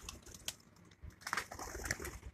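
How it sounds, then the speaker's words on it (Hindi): Teddy pigeons on a rooftop loft in Kasur coo softly in short bursts at close range, with a few light clicks and scuffs mixed in and no talking. "कसूर की जो नायाब नस्लें, डब वाले, गोल्डन और टैडी कबूतर"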